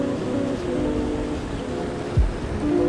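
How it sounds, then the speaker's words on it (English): Steady broadband roar of water pouring from a dam, a constant rushing wash close by with a brief low thump near the end. "I know it's kind of hard to hear because of the dam"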